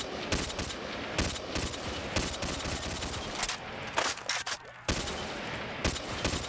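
AK rifle firing in a zombies video game on an infinitely tall tower map, loud rapid bursts of automatic gunfire with brief pauses, dense and continuous across the clip.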